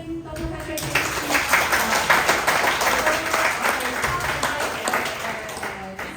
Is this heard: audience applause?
yes